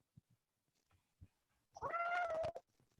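A foster cat lets out a single loud, drawn-out meow up close, after a few faint soft knocks and rustles.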